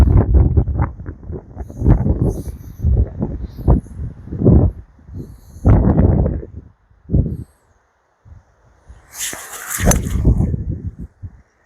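Strong gusts of wind buffeting the microphone on a golf course, loud rumbling bursts that rise and fall irregularly with brief lulls, and a rustling hiss near the end.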